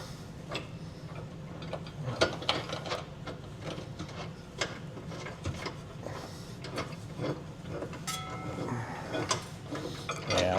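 A bolt is threaded by hand into a Class III trailer hitch on a 2016 Ford Transit T250, giving small irregular metallic clicks and ticks with scattered taps and clanks, close and fairly quiet.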